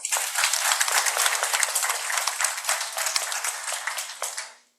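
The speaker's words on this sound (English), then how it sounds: "We'll give a round of applause to all of us." A round of applause rises from a celebrating team gathering, dense steady clapping from many hands that carries on evenly without talk and fades out at the end.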